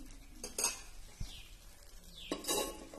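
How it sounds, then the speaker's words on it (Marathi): A lid placed on a pan of cooking dill greens (shepu bhaji) makes a few close metallic clinks and scrapes against the rim. A faint sizzle runs underneath, and there is no talking. "आता हे झाकण ठेवायचं याच्यावरती"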